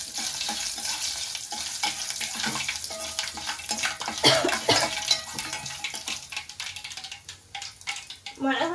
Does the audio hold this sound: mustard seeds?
yes